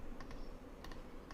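A computer keyboard typed on while naming a new component file in a React project, giving a few quick, light key clicks over a steady background hiss, with no voices.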